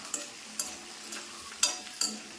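Small onions frying over medium flame in a pan, a soft steady sizzle broken by five sharp scrapes and knocks of a spoon stirring them, close and quiet with no talk.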